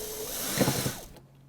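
A screw is turned out with a hand tool, producing a brief, close burst of rapid ratcheting clicks that stops abruptly.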